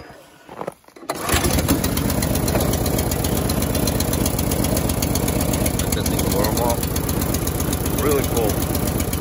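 Honda HSS 928 snowblower engine idling after a cold start at minus five degrees Fahrenheit, loud steady chugging drone close by after a short start-up, with a few words spoken over it.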